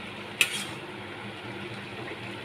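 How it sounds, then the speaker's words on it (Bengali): A spoon clinks once against the pan, then coriander powder is stirred into a bottle gourd and prawn curry under a low, soft sizzle for a couple of seconds. "ভালো করে এবার মিশিয়ে নিতে হবে এক চামচ ধনিয়া গুঁড়ো দিয়ে দিলাম"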